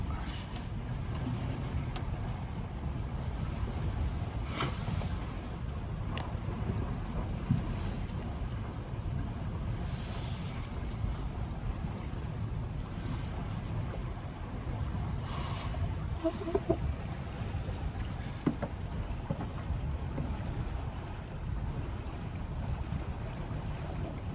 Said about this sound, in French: Le bateau glisse super bien.